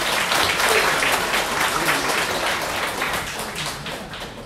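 An audience claps to welcome Suzhou pingtan performers in the water town of Zhouzhuang, a loud, dense, sustained round of applause that eases slightly toward the end.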